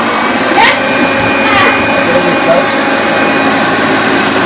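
A 1977 Hoover Junior Deluxe upright vacuum cleaner runs with a loud, steady whirring roar, close by and continuous, with faint voices and a few small knocks underneath.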